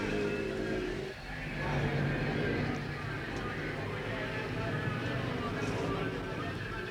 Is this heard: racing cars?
yes